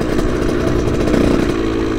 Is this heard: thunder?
no